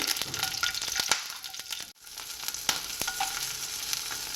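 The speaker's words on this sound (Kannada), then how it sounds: "ಸ್ವಲ್ಪ ಎಣ್ಣೆ ಹಾಕಿ ಫ್ರೈ ಮಾಡ್ಕೋಬೇಕು ಇವಾಗ ಎಣ್ಣೆ ಹಾಕೊತಾ ಇದ್ದೀನಿ" Oil frying in a pan with coriander leaves gives a continuous crackling sizzle. Several sharp spatula clicks and scrapes cut through it, and the sound briefly dips near the middle.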